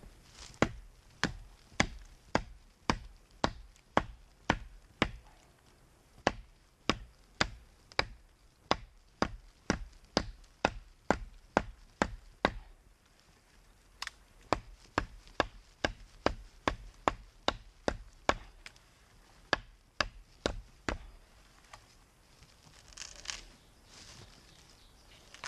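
A Condor Primitive Bush Knife chops into wood, striking a long run of sharp, evenly paced blows close by, with a brief pause midway before the strikes resume and then trail off.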